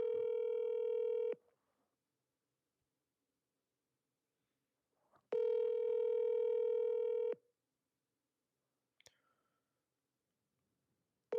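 A phone line during a call gives steady ringback tones, two long beeps separated by seconds of silence, with a faint click in between, clear and close with no talk over them.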